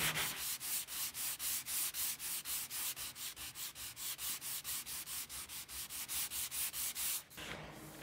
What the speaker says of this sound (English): I'm then hitting it a little bit with 120 grit sandpaper